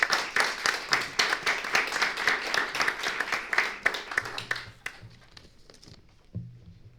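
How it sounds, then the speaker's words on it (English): A conference audience at an EU health data session breaks into loud, dense clapping that holds steady for about five seconds, then thins out and fades to a quiet room. "So please, round of applause for the speakers,"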